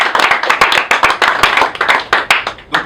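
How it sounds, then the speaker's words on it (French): A burst of audience clapping, brisk and fairly close, with sharp irregular hand claps overlapping for a few seconds. "on peut les applaudir"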